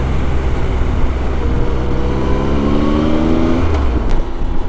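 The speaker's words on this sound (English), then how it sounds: "This traffic is quite busy and it's 10:30 in the morning." Busy weekday-morning road traffic rumbles past, a loud continuous drone with a vehicle engine rising in pitch as it accelerates, close and steady with no talk.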